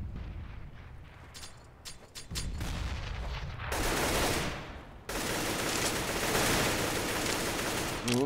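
Automatic rifle fire in CS:GO on de_dust2, a magazine emptied in long sustained bursts that grow louder and denser in the second half, with scattered single shots before.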